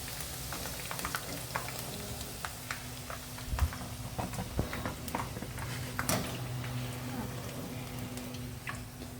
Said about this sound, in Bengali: আরও 2-1টা ব্যাচ ভেজে নেব।